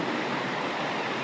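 A restored creek in Kelowna where kokanee salmon spawn rushes loudly and constantly, a dense close roar of churning water filling the whole moment without pause.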